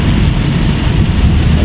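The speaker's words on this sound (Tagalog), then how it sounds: "Wala siyang sinyalis ng pagtigil ng ulan" Heavy rain pours during flooding in Puerto Princesa, a loud, dense, continuous hiss with no break.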